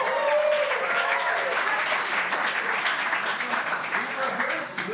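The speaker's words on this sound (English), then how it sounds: "Let's give it a round of applause." An audience at a live musical improv show breaks into sustained applause, dense and fairly loud clapping that carries on for several seconds before easing slightly at the end.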